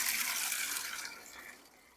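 Water rushing out of an opened aquarium drain valve, a soft hissing gush that gradually fades over two seconds, fairly quiet.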